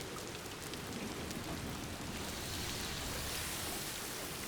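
Steady rain falls in the video game Death Stranding 2, a dense, even hiss of drops on surfaces that continues unbroken and fairly close, with no voices.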